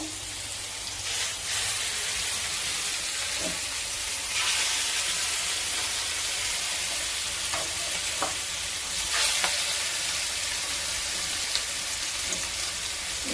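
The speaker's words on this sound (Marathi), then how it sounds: "इथे आता आपण घेतले जी मच्छी तिला मसाला हळद मीठ आणि लिंबाचा रस जो लावलाय ते आता तेलात टाकूया" Marinated fish pieces coated in turmeric, salt and lemon juice fry in hot oil, a dense, steady sizzle close up, with occasional scraping and clinking as the pieces are turned.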